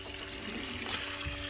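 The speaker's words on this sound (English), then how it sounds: "Just sort of washing out the deck, as it were." Water splashing and trickling as chum is rinsed off the deck of a tiny fishing boat at sea, a steady wet wash under a constant engine or wind hum, with no talking.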